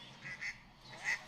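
A human voice imitates a duck, giving three short nasal quacks spaced apart, close and fairly quiet with no other talk.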